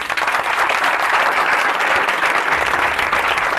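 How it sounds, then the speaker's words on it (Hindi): An audience bursts into loud, sustained applause honoring Indian scientists after the Chandrayaan-3 lunar mission success, dense clapping filling the room steadily from start to finish. "मैं चाहता हूं सभी भारतीय वैज्ञानिकों के लिए अपने तरफ से जोरदार तालियां हो जाए"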